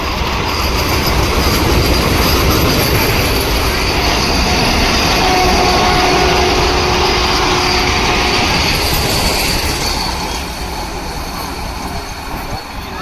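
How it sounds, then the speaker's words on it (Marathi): A Vande Bharat express roars through Kudal railway station at speed without stopping, a loud steady rumble of wheels with faint metallic squeals, easing off toward the end. "कुडाळ रेल्वे स्टेशनमध्ये वंदे भारतचं आगमन झालेलं आहे पण इथे थांबत नाही"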